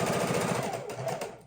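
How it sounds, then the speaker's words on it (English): Sewing machine stitching Halloween quilt pieces together in a rapid, steady mechanical chatter that slows slightly near the end, close and continuous with no talk. "And we're just taking them one after another and sewing them together."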